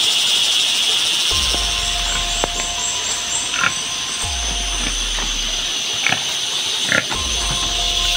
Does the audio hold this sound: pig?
yes